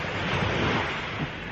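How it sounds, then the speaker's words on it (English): Steady wind rushing over the seaside at night in February, with a broad continuous roar of surf and gusts buffeting the microphone, loud and unbroken throughout. "Wind's slightly picking up a bit, and it's getting a little bit nippy."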